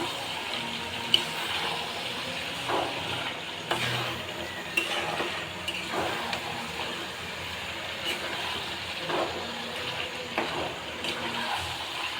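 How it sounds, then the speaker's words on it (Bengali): Chicken for biryani is stirred into fried spice paste in a pan, with a soft background sizzle and scraping stir strokes at irregular intervals, close and alone with no talking. "এখন এটা পুরোটা ঢেলে দিব। দিয়ে ভালোভাবে নেড়ে চেড়ে"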